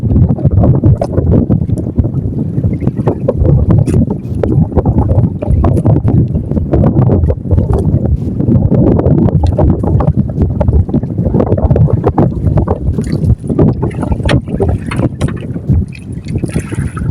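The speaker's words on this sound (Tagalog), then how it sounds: "Malakas pa yung salatan." Strong south wind at sea buffets a boat after a typhoon, a continuous loud broadband roar with wind noise on the microphone and irregular knocks and slaps from the hull, with no talk.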